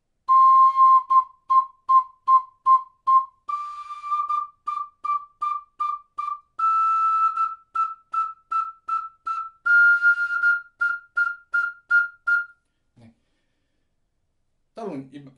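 Ocarina played staccato with tonguing: bursts of short, pure, whistle-like notes, several on each pitch, stepping gradually upward. A soft breath follows near the end.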